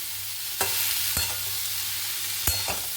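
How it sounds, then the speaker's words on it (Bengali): Beetroot frying in a pan sizzles steadily and fairly loudly, and three or four sharp spatula scrapes and knocks cut through the hiss. "এবারে ভালো করে নাড়িয়ে চাড়িয়ে ঢাকনা চাপা দিয়ে দেবো।"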